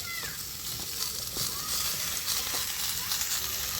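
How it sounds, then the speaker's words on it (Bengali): Mixed vegetables for a vegetarian pumpkin ghonto fry in a pan with a steady, close hiss and faint crackles, with a few light stirring knocks and no talking. "এবার আমি বাকি সবজিগুলো দিয়ে দিচ্ছি।"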